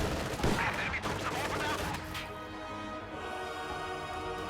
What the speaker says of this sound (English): MG42 set up inside the house right here is going to start firing on his conscripts